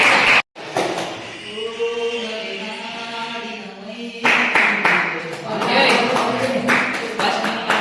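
Audience applause at a music audition show, a dense burst of clapping breaking out about halfway through over a busy background of voices and music, loud and close.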